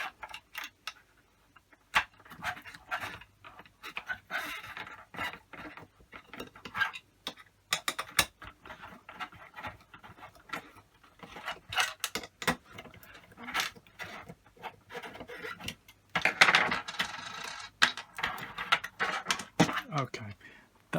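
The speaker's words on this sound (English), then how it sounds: "So using your Torx T10 screwdriver, let me just remove the console. Remove these screws." Small clicks and scrapes of a Torx T10 screwdriver backing screws out of an original Xbox One console, close and intermittent, with a denser rattling burst near the end.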